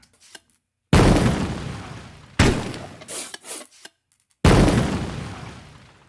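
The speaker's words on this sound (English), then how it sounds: "It's really rare that I need to do an explosion that sounds like this" Three loud explosion effects, each a single sharp blast that decays away, separated by silence, with some crackling debris after the second.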